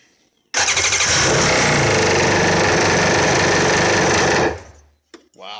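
A rebuilt 2000 Sea-Doo GTX DI engine, running without its oil pump, starts abruptly and runs at a loud, steady, buzzing roar for about four seconds, then cuts off, followed by brief talk.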